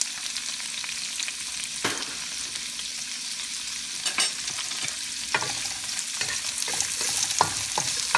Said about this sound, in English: we put some olive oil, and we will put first our onions.